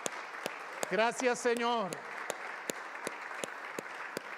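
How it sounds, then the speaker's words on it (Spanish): Church congregation clapping sharply and irregularly, scattered claps across the whole stretch, with a sung or chanted voice rising over them briefly near the start. "Quisiera con ustedes dar un aplauso a Dios por su misericordia"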